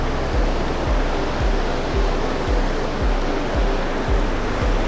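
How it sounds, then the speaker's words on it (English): Fast-running water beside Briksdal Glacier waterfall in Olden, Norway, a loud, steady rushing roar close by, with low thumping gusts of wind buffeting through it. "The water's running pretty quick"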